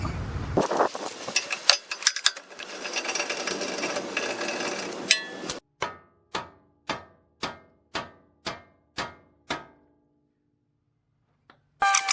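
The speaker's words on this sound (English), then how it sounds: "Now we're going to take off the 19mm that holds it." A ratchet backs off the 19mm nut on the upper ball joint of a 2000 Toyota 4Runner. A few seconds of busy, rapid working sound give way to about nine slow, evenly spaced single clicks, close and crisp, with no talking.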